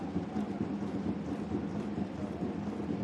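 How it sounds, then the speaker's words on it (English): Steady rain falls during a 2021 J2 League football match between Tochigi SC and Mito Hollyhock, a constant broadband hiss of rainfall with no breaks and no speech. "And the rain continues to fall as we hit the midway point of the first half."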